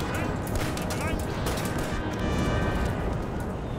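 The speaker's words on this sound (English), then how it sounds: "Oh, cannons coming in on my infantry." Cannon fire strikes infantry during a large 4v4 Waterloo battle in Napoleon: Total War, a loud, continuous barrage of booming shots and rattling impacts layered over one another, with a voice talking over the din.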